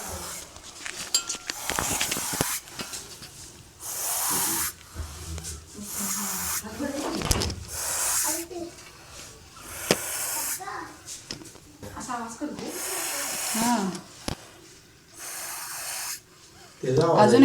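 A snake in a home kitchen gives repeated loud, breathy hisses, long bursts at irregular intervals that resemble a pressure-cooker whistle, while someone talks between them.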